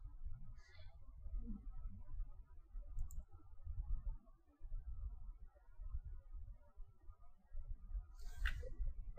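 Soft keystrokes on a computer keyboard come in short bursts of quiet clicks over a low background hum, with a few sharper taps standing out.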